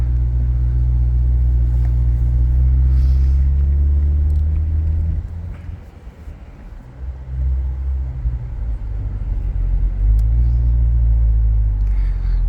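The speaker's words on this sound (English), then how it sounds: "let's go ahead and take this for a quick drive around the block" A 2023 Chevrolet Corvette 2LT rumbles loudly and continuously from inside the cabin as it drives around the block, its engine note swelling, dipping briefly, then building again.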